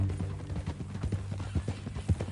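Horse hooves clip-clopping at a steady walking rhythm in Red Dead Redemption 2, close and continuous, with low ambient rumble beneath.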